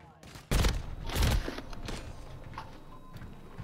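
A loud gunshot blast from the shooter video game Call of Duty Modern Warfare III, quickly followed by a second heavy burst that fades into a rumbling tail, with a voice talking in the background.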